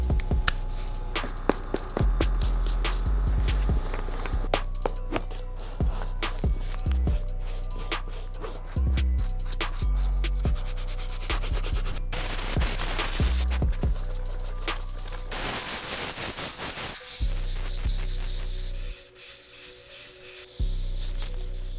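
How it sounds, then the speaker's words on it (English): Compressed air blasts and brushing over filthy, trashed Air Jordan 1 sneakers during cleaning, with bursts of hissing spray and scrubbing strokes close up, irregular and continuous over about twenty seconds, with no talking. "we gotta use a compressor and our soft bristle brush to remove as much surface dust, grime, and hair on these sneakers"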